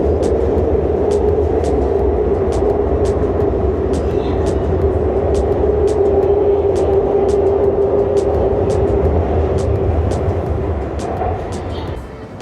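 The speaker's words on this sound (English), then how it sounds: "I'm currently in the subway now" Subway train in China riding along, a loud steady rumble with rhythmic clicks of the wheels over rail joints throughout, fading slightly near the end.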